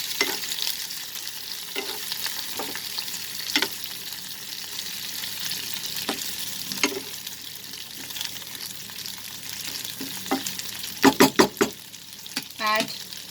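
Garlic and chicken sizzle gently in a pan while a spoon stirs and scrapes in scattered strokes, ending with a few sharper clinks of utensil on metal.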